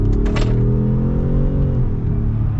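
A 2022 Ford F-150 Platinum PowerBoost hybrid pickup accelerates in two-wheel drive, a loud, close low rumble that rises slightly in pitch and then levels off, with no talking.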